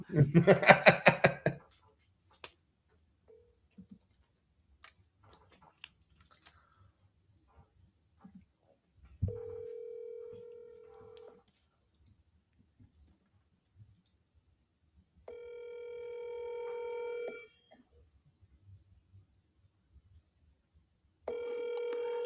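An outgoing telephone call to a seller rings back in long, steady tones spaced several seconds apart, with clicks and faint handling noise between them and a burst of noise at the very start.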